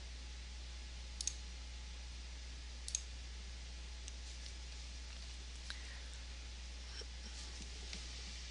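Sharp computer mouse clicks while placing a market order at a trading desk, a few isolated faint clicks spaced seconds apart over a quiet low hum.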